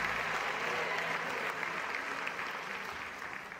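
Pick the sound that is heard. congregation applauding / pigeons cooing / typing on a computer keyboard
congregation applauding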